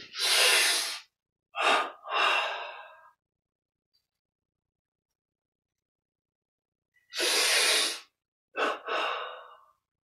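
Two sets of deep, forceful breaths during a yoga breathing exercise: a long inhale followed by two shorter sharp exhalations, close to the microphone, separated by several seconds of silence.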